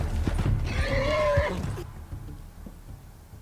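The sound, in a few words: horse hooves and whinny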